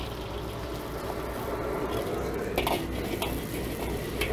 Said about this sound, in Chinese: 待底部定型之后再快速翻动鸡脯肉，将其滑炒至7成熟。